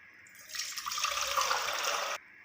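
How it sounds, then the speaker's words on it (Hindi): Water poured from a tap into a cooking pan for boiling macaroni, a steady close hissing stream lasting under two seconds, starting and stopping abruptly in a quiet kitchen. "मकरोनियाँ बॉयल करने के लिए एक पैन में हम पानी डालेंगे।"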